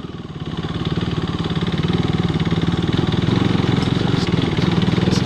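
A motorcycle engine thrums close and loud with a steady, pulsing rhythm on an off-road ride in Sikkim, holding a constant throttle throughout.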